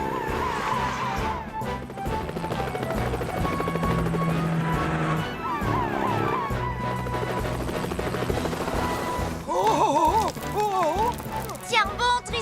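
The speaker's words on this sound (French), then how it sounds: "prenez l'hélicoptère" Loud cartoon helicopter rotor thudding continuously with music and crashing effects layered over it, rising to a brighter burst near the end.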